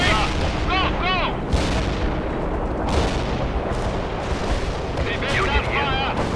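Artillery strike in the World in Conflict strategy game, a dense, loud barrage of shell impacts and gunfire rumbling throughout, with several sharper blasts standing out and brief radio chatter and whistles in the background.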